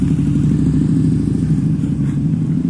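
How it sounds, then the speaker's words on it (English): A Harley-Davidson motorcycle engine on a street in Benidorm produces a loud, close, steady low rumble that holds unbroken throughout, with no talk over it. "And of course, American bike Harley."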